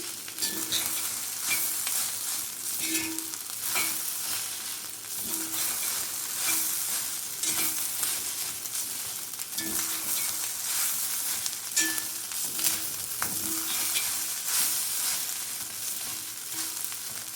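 Paneer mushroom fried rice with homemade Schezwan sauce and chilli oil is stir-fried in an iron pan, producing a steady loud sizzle with repeated scraping and tossing strokes throughout.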